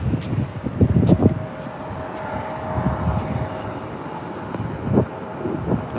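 Airplanes taxiing at San Diego airport at sunrise, a broad, steady engine rumble with wind buffeting the microphone, heard from a distance and swelling briefly at a few moments.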